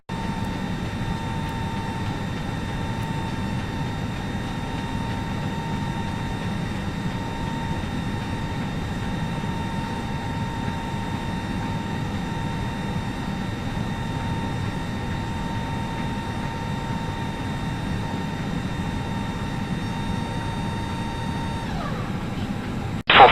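Aircraft cabin noise from a flight leaving Beijing Capital for Hohhot Baita: a steady, loud engine roar with tonal whine held throughout, shifting near the end as power changes.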